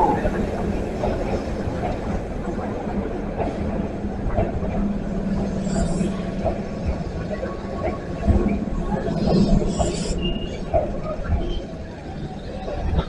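A seven-car Keihan 1000 series semi-express rolls into platform 4 at Hirakata-shi station, a dense rumble of wheels and rail noise running throughout while a station announcement voice sounds over it.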